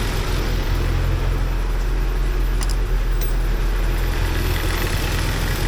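A 1979 Porsche 924 engine runs at a steady, loud idle close by, a continuous low rumble with a faint metallic tick partway through.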